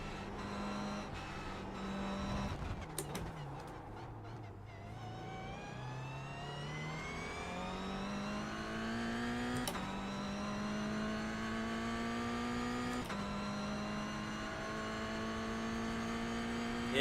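A learner driver's car engine drones steadily, its pitch climbing and dropping through gear changes and rising again under acceleration, with a few sharp knocks as the car bounces. It is close and continuous, with no talk.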